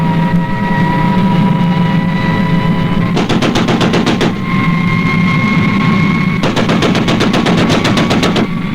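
Two long bursts of rapid machine-gun fire ring out in a puppet adventure show, each volley a fast, steady rattle lasting about a second or two, loud and close over a continuous engine drone.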